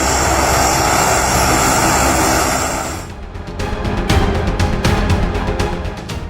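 Loud, steady drone of C-130 cargo plane propeller engines roars for about three seconds, then cuts to a lower, rumbling engine noise with intermittent clicks and bursts.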